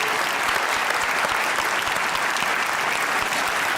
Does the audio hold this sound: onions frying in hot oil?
no